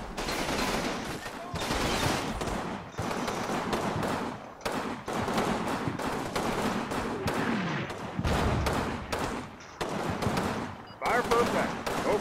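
Dense, continuous gunfire from Combat Mission units in a World War II battle for La Valence: overlapping rifle and machine-gun bursts crackle loudly across the whole stretch, with a few brief lulls.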